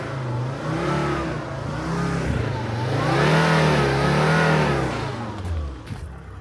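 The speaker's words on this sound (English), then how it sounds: "Give it a little rev so you can hear it." A 2005 Volvo V70 2.4D SE AWD diesel engine is revved near at hand, climbing through a couple of smooth rising and falling swells before settling back to idle, loud and alone.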